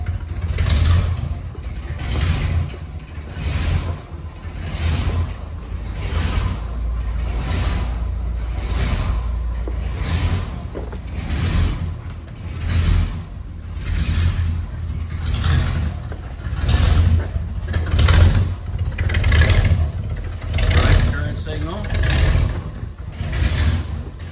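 A 1965 Chevrolet Impala Super Sport convertible V8 idles steadily and fairly low, its close, loud rumble pulsing in an even rhythm for the whole stretch with no talking over it.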